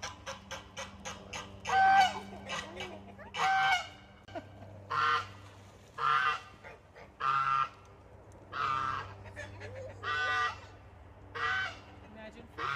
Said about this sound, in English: Why is Bocephus named Bocephus? Well, he likes to honk a lot